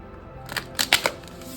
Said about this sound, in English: So I'm going to draw next from these cards, and we can kind of shuffle these